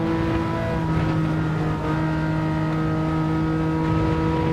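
Porsche 911 Carrera RS (964) in Gran Turismo 7, with a steady, loud engine drone holding a constant tone throughout, like sustained high-speed running on track, with no talk.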